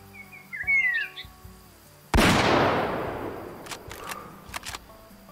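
A single loud 9.3 bolt-action rifle shot fired at a kudu in Way Of The Hunter, a sharp crack with a long fading echo, preceded by birdsong and followed by scattered bird chirps.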